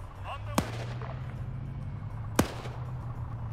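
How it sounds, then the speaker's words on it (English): Two sharp, distant gunshots crack in a video game set in the Sierra Leone civil war campaign, spaced a couple of seconds apart over a steady low engine-like hum and ambient background. "Starting to hear shots from back there."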